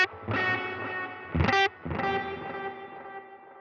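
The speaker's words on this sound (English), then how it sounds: "You hear how every repeat has reverb on them." Electric guitar notes ring out through a wet delay with reverb on every repeat, three plucked attacks, each trailing off into smeared, echoing tails with no talking.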